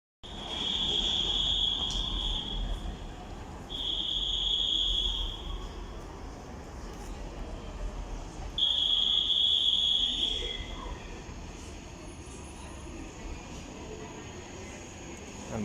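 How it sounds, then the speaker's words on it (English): Ouigo TGV Duplex high-speed train arriving at a station platform, with repeated high-pitched squealing bursts over a low rolling rumble, moderately loud and close. "And my train arrives on time."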